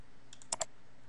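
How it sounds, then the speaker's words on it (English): A few quick clicks from a computer mouse, two sharp close taps near the middle with fainter ticks just before, alone against a quiet background hiss. "I'm going to highlight this sentence and right click, choose copy."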